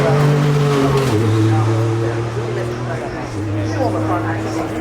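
A quad-turbo 6.62 supercar engine at the Goodwood Festival of Speed Supercar paddock drones loudly with a sustained low tone that shifts down in pitch, heard beneath speech.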